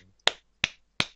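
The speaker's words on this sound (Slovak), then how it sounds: "Áno, výborne, niekto tleskal, to je fajn." Three sharp, close hand claps ring out alone in a quiet room, evenly spaced about a third of a second apart.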